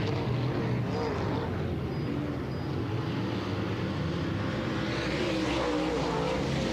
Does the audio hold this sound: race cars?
yes